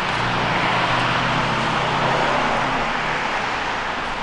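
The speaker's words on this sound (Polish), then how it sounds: "Ale tu hałas samochodowy," Loud, steady road traffic roars nearby, a continuous broadband wash of passing vehicle noise with no voices.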